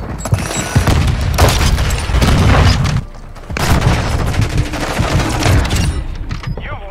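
Heavy, booming rifle fire in a video game, loud and dense with sustained blasts, breaking off briefly around the midpoint before resuming.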